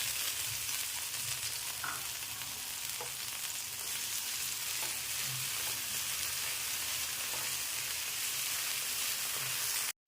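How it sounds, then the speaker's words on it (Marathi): Tomato sautéing in a pan for Maharashtrian misal pav, a loud, even frying sizzle throughout with faint occasional stirring knocks, no speech. "टॅमॅटो चांगला मऊ होईपर्यंत आपल्याला हा परतून घ्यायचा आहे"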